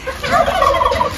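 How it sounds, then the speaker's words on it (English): A single fowl on a ranch gives a short, loud, close burst of gobbling, bubbling calls with no talk over it. "here we've got all our greasy chickens"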